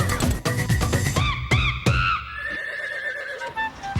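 A horse at a racetrack neighs loudly and close, a long shrill whinny that trembles and fades, following some louder knocking sounds at the start.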